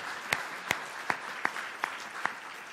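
Audience applause for two debate speakers at a televised economics program comes through as six sharp, evenly spaced claps over a low room hum, fairly faint and sparse.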